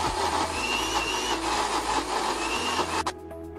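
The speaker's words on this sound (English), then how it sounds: "I will be adding 1/3 of milk again and grind it really well" An electric grinder blends biscuit cake batter with milk, giving a loud, steady motor whir that runs close and continuous for a few seconds before cutting off abruptly, leaving a faint rattle.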